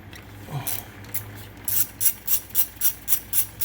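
Quick, faint ratchet clicks as T30 Torx screws are loosened on a 2008 Mini Cooper S high pressure line, a few scattered strokes followed by a steady run of evenly spaced clicks.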